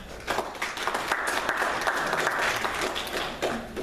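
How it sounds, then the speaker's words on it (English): An evening lecture audience claps to welcome a speaker: dense, steady applause from many hands filling the room, sustained throughout without a break. "All the clapping wasn't necessary, but thank you anyway"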